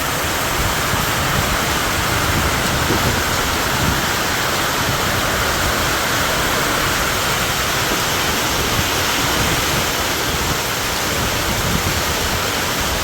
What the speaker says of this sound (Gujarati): કેવો વરસાદ આવી રહ્યો છે